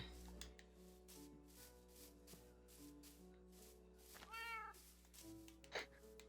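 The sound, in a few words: cat meowing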